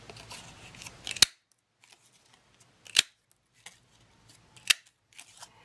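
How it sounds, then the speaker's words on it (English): A paper punch cuts small shapes from pink cardstock in a papercraft session, giving three sharp, crisp snaps about two seconds apart with near silence between them. "And while I'm punching, Let's go ahead and punch some of these smaller ones."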